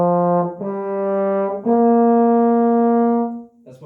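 Three sustained brass tones from a trombone, the opening high notes of the second line of a song, sounding clearly one after another, each rising slightly, with the last held longest.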